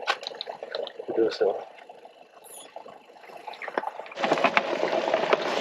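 Water drains from a 5-gallon bag into a tank outdoors in snowy Grand Canyon boondocking conditions, trickling and gurgling steadily and growing louder near the end, while a person talks over it.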